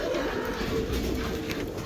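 Soft pigeon cooing rises from a steady, noisy background at morning feeding, continuing without pause through the short stretch.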